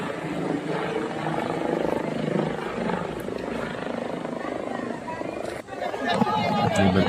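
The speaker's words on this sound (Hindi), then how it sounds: "ये हेलीकॉप्टर बीच बीच में आते जाते रहते हैं।" A helicopter drones steadily overhead near Badrinath, a loud continuous rumble and whir filling the whole stretch, with voices talking nearby.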